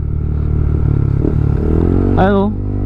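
A motorcycle engine drones steadily and close by while the bike is ridden, with someone speaking over the rumble throughout.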